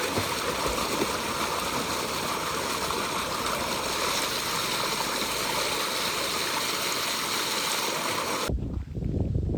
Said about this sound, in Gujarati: અહીંથી તલમાં પાણી જાય છે